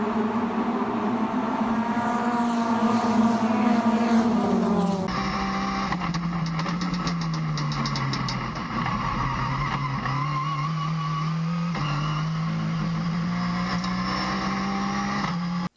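A midget race car's engine whines steadily at close range, its pitch rising and dipping through shifts, with tires skidding and scrubbing beneath the drone.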